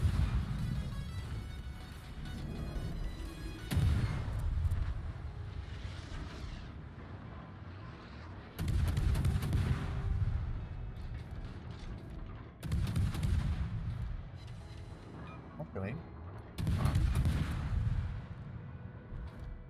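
Naval gunfire from the battleship New York in World of Warships, heavy booming salvos recurring every few seconds, each a loud blast with a long rumbling decay, over a low continuous engine-like drone.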